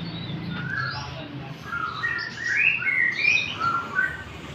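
Small birds chirp and tweet in a quick series of bright, high calls over a quiet low background hum, growing busier toward the middle.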